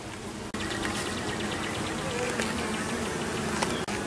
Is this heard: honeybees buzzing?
yes